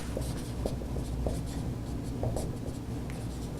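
Chalk or marker scratching out a word on a board in a French lesson classroom, with short strokes and taps in an uneven rhythm, close and fairly clear over a low room hum.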